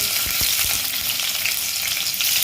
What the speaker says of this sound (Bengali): প্রথমে আমি কিছু কুচিয়ে রাখা রসুন দিয়ে দেব